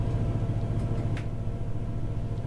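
Class 68 diesel locomotive engine in Train Sim 2020 running in notch 5, a steady low rumbling drone with a faint hiss above it, close and continuous, with no talk.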